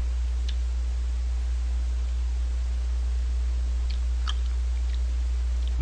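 Someone chewing a candy bar up close, soft chewing with a few tiny clicks over a constant hum and hiss.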